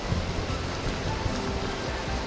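Rain pours in the Vintage Story survival game as a dense, continuous hiss that stays steady and fairly loud from start to finish.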